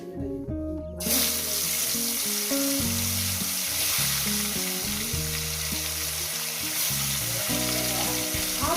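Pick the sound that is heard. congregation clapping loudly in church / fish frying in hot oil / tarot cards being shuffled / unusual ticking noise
fish frying in hot oil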